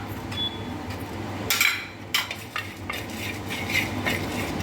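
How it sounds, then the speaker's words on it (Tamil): Fenugreek, cumin, black pepper and turmeric scraped and stirred around a hot pan while dry roasting, with rattling, scratchy strokes and a few louder clinks, close and steady throughout. "வெந்தயம், சீரகம், மிளகு எல்லாமே சேர்த்து வறுத்தரலாம்."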